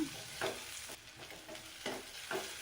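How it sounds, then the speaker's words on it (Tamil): Oil sizzles steadily as green chilies and curry leaves are stirred in a pan for fish curry, with a few louder scraping bursts at intervals; no voices. "அதையும் நல்லா வதக்கி விட்டுக்கலாம்"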